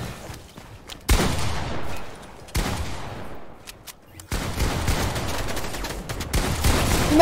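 Bursts of rapid automatic gunfire from an online arena match in a shooter game, loud sustained volleys in three long stretches separated by brief pauses.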